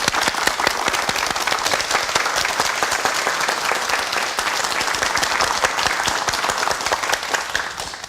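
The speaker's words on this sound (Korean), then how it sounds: "여러분 큰 박수로 강의 청해 주시기 바랍니다" A studio audience gives sustained applause to welcome a lecture on a TV morning talk show, many hands clapping in a dense, even roar that holds steady throughout and tails off slightly at the end.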